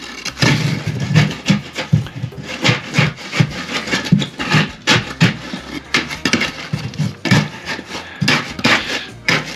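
A small stick tamps and pokes fresh concrete into underpinning beneath an old stone retaining wall, making close, repeated scraping and knocking strokes in a busy, uneven rhythm that continues throughout.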